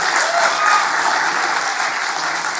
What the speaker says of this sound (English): round of applause for all the fathers in the room